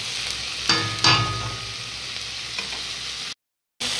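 Vegetables and spices, including Malabar spinach greens, frying and being stirred in a pan, a steady sizzle broken by a few louder scraping stirs near the start, then a brief dropout before the frying resumes.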